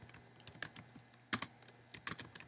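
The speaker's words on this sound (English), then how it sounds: "I'm going to type in custom Google search" Fingers type quickly on a computer keyboard, producing a close, steady patter of crisp key clicks with a few heavier strikes, with no talking.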